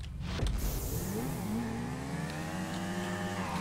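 A motorcycle engine in GTA 5 revs up with a rising, whining pitch, the climb continuous and fairly quiet against a dense wash of game noise, with no talking.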